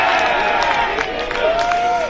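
Restless crowd noise at an Adelaide Footy League match between St Peters OC and Golden Grove, a steady broad murmur with scattered shouts and whistles throughout, continuous and fairly close.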